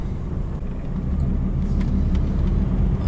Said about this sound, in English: Here comes the truck